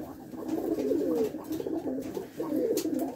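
Rajshahi Giribaz pigeons coo in soft, rolling bursts close by, repeating through the moment with a faint hiss of background noise.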